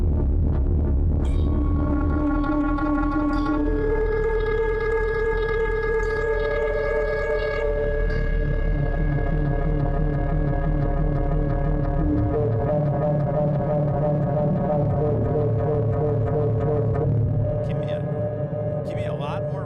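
Power drone synth preset from the OPx-4 plugin running on an Akai MPC, a loud sustained droning pad with slowly shifting stacked harmonic tones and a deep low rumble, changing pitch in stages and continuing steadily throughout with no talking.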